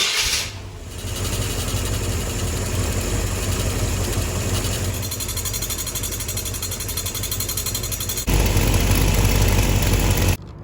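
A Chevy 350 V8 in a Corvette C3 with a bent, wobbling crankshaft pulley idles with a steady, dense mechanical rumble and clatter close up, rising in loudness briefly near the end.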